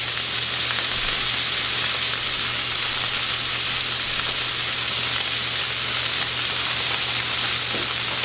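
Shrimp sizzle steadily in a hot stone molcajete, a loud, continuous frying hiss with no talking over it.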